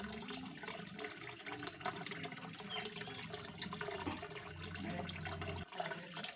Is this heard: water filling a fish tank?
yes